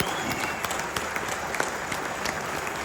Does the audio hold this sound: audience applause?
yes